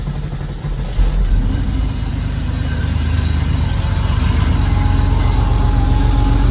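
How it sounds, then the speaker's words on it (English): A 1992 Porsche 964 Carrera RS fires up about a second in, then settles into a loud, close, steady idle with a deep, even burble. "we are gonna fire this little lady off. It's gonna make all kinds of 964, 993 noises."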